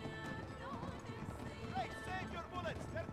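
A horse gallops with rapid clip-clop hoofbeats and whinnies in the video game Uncharted 3: Drake's Deception, close and continuous, with someone talking over it.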